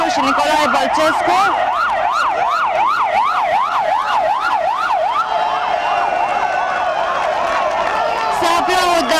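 An ambulance siren wails loud and close in a steady rising-and-falling cycle at a street protest in Bucharest, with crowd noise underneath and the pattern shifting partway through.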